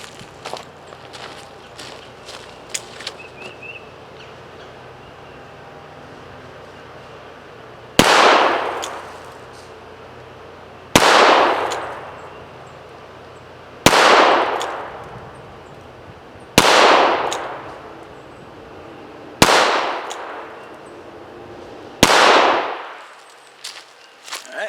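Six .38 Special Trail Boss gunshots with 110 grain lead bullets at an outdoor range, evenly spaced about three seconds apart, each a sharp loud crack with a short decaying tail, after faint handling clicks.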